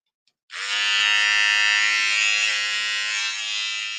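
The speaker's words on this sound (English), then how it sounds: "It's a little mini pocket horse shaver" A small electric mini pocket horse shaver switches on after a faint click and buzzes steadily and loudly at close range, a sustained high motor whine with no voices.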